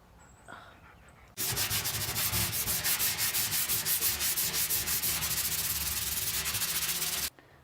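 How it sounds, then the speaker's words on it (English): Rapid rhythmic scraping of sandpaper rubbed back and forth by hand over a rusty metal wash tub, loud and close, running steadily for several seconds before stopping abruptly. "I realized sanding the bottom by hand was going to take forever"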